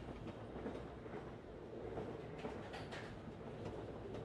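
Steady rumbling train noise with rhythmic rail clatter in the Tick Tock: A Tale for Two co-op video game, a continuous, fairly loud wash of rolling wheels and carriage rattle with no talking.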